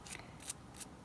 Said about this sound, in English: just get your paper snip, your scissors, and just cut